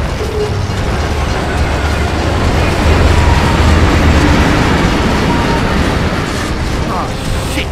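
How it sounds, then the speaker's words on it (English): A train rumbling toward characters on the tracks in a tunnel in Gears of War 3, a loud steady roar with rattling wheel noise building, voices shouting beneath it. "It's a bloody train coming the other way!"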